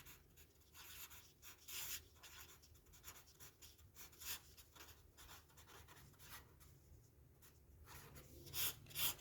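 Chalk or marker writing the midpoint formula on a classroom board: a steady run of faint scratchy strokes and taps, close and quiet, with no voice over it.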